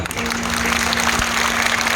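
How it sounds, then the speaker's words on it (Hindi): Devotees at a temple gathering in Jhunjhunu clap together, a dense burst of clapping heard close and fairly loud through the brief stretch, with a steady hum underneath. "जिनको जितना प्यारा लगा ये आशीर्वाद नाम, एक बार उतनी जोरदार ताली बज सकती है आपकी।"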